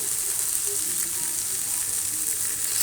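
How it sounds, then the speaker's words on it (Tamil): Onions sautéing in a pan, a continuous even hiss of frying, moderately loud and steady, with no distinct stirring strokes. "அப்படியே நம்ம வெங்காயம் மட்டும் வதக்கிக்கிறேன்"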